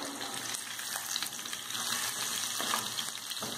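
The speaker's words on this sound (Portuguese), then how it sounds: "E agora eu vou estar adicionando o meu alho, né? Para dar uma douradinha." Two garlic cloves fry gently in oil, a close, even crackling hiss with small pops and a faint steady whine behind it, no voices.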